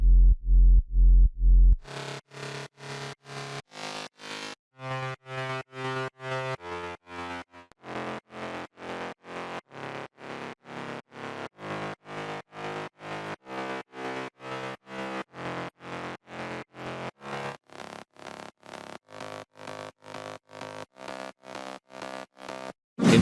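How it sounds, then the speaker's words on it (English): Layered progressive house bass, three mid bass synths over a sub bass with distortion and sidechain, plays short repeated notes. The notes pulse quickly and evenly and shift in pitch across a riff. There is a brief deep opening phrase and no talking. "For the bass I added 3 mid bass and 1 sub bass."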